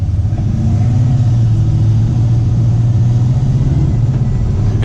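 An LS-swapped 1964 Chevy C10 pickup's stock LS V8 revs steadily, a loud, close, deep rumble that holds throughout without pause or talk.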